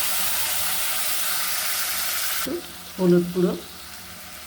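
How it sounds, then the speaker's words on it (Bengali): Dried chilli, cumin seeds and chopped onion fry in hot oil in a pan with a loud, steady sizzle for a couple of seconds, then cut off as someone speaks briefly. "একটা শুকনো লঙ্কা, একটু গোটা জিরে, একটু পেঁয়াজ কুচি ভালো করে নেড়ে চেড়ে সেই মশলাটা আমি দিয়ে দেবো।"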